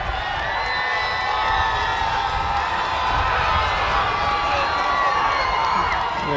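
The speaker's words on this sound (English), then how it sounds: "And the crowd is booing for some reason." A large crowd in the stands at a Salem vs Beverly high school football game roars with booing and shouting, a dense, continuous wash of noise heard from across the field.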